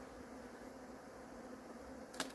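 Honeybees drone around their hives in a low, steady hum that holds even and moderately faint throughout, with a brief louder burst near the end.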